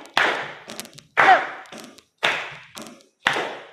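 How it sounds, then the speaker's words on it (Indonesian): A church congregation claps hands together in unison, five sharp, broad claps spaced about half a second to a second apart with small scattered claps in between, close and fairly loud with no talking. "Yuk kita satuin dulu tepuk tangannya."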